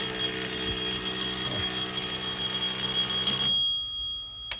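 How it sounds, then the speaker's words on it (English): A homemade fire alarm built from a clothespin switch rings with a loud, steady electric bell tone for about three and a half seconds, then cuts off abruptly, leaving near silence. "You see why I call it a fire alarm?"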